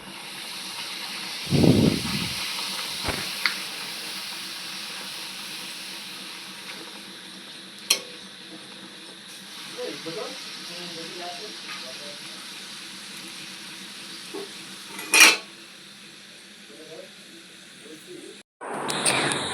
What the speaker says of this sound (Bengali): একে একে সব লুচিগুলো ভেজে নিচ্ছি